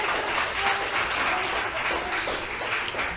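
A crowd at a creative writing showcase claps for April, giving sustained, fairly even applause with a soft murmur of voices beneath it and no break in the sound.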